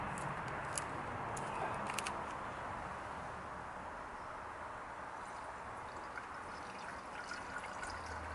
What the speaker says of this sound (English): you just pour it into the expansion tank.